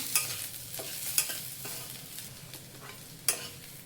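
Onion frying golden in a pan for maaswadi, a soft sizzle punctuated by a few sharp stirring clinks of a spoon against the pan, close and fairly quiet.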